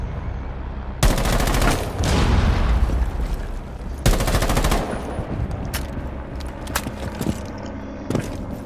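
Video game gunfire in two long loud automatic bursts, each lasting about a second, followed by scattered single shots and short pops, close and sharp.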